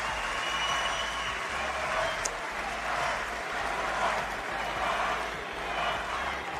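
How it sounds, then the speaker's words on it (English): A large convention crowd chants USA in a continuous, rhythmic roar that stays at a steady level throughout, heard from a distance with no clear individual voices. "They're just saying USA in the background."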